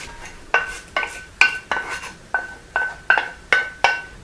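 Chopped peppers and garlic are knocked into a salad bowl for a rice salad, heard as about nine sharp, ringing clinks of utensil on bowl at a steady, even pace, close and clear.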